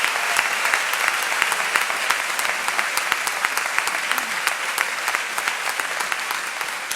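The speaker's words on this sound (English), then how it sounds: "If you'll please give these students a well-deserved round of applause." Moderately distant applause rolls through a high school honors ceremony hall in honour of students, with even, continuous clapping throughout and no voices above it.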